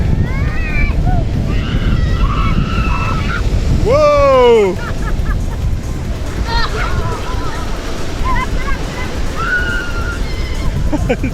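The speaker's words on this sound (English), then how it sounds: "So the hard tide's starting to pull in, so it's pushing the shore break in quite strong." Strong shore break waves pushed in by an incoming tide roar as a loud, broadband wash throughout, mixed with wind buffeting, shrill excited voices and a shout.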